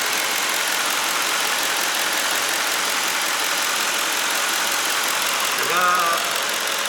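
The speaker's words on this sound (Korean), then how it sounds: "근데 엔진 소리는 진짜 좋다." A 2006 Infiniti M45 V8 idling with its hood open, a steady, even engine hum held at a constant level throughout, with a brief faint voice near the end.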